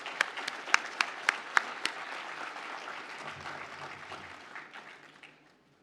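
An audience at a university commencement ceremony applauds graduates just presented with their degrees, a steady wash of clapping with a few sharp, louder claps near the start, gradually fading out to silence.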